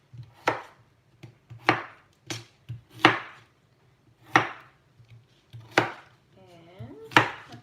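Potatoes being chopped on a board for tomato and lentil soup, eight or nine crisp knife thuds at an uneven, unhurried pace, close and clear, with brief quiet gaps between strokes.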